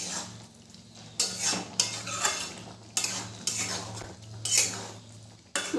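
A metal spoon scrapes and clanks against a pan while stirring masala okra (bhindi) with chopped coriander, several distinct strokes over a low steady hum and faint sizzle.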